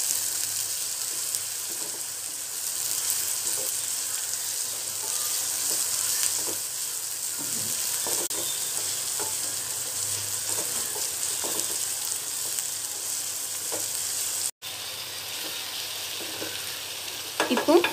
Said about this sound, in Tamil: தக்காளியும் சேர்த்து நல்லா கிளறிக்கலாம்.